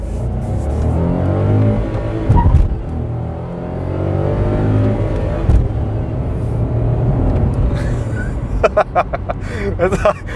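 A cheap seven-seater car with a 5-speed gearbox accelerates, its engine note climbing through the revs, dropping briefly at a gear change, then rising again, heard from inside while someone talks over it, with a few sharp ticks near the end.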